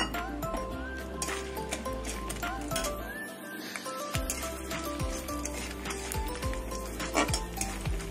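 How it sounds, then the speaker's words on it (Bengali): Steady mustard-oil sizzle of frying lentil dumplings, with clinks of a utensil stirring and scraping a metal pan, close up and continuous. "বড়িগুলো ভেজে নেবো, ভাঙা বড়িগুলো"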